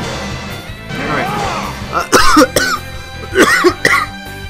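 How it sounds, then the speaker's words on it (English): A few harsh coughs burst out close to the mic in two quick clusters, after a stretch of low background murmur. "You have to listen to me cough"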